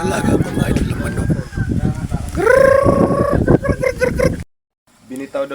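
Farm chickens cluck and crow close by, with a drawn-out crow in the middle and short clucks around it, mixed with people talking.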